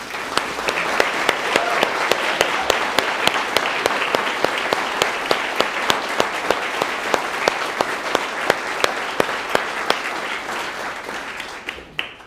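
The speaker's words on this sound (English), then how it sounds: "Can we all give Carrie a massive round of applause?" Sustained audience applause fills a hall at an Easter band event, many hands clapping steadily for about twelve seconds before it quickly dies away.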